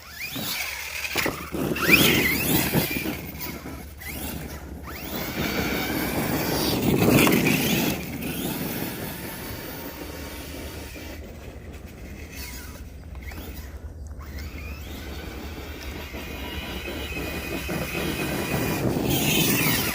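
The small electric motor of an Arrma Kraton RC car whines and revs up and down at a distance, rising toward the end against a low background rumble.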